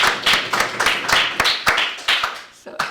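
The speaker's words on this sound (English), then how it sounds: "A round of applause." Audience applause at a fundraiser anniversary celebration, rhythmic sharp claps from a smallish crowd, close and fairly loud, repeating in bursts with some voices mixed in.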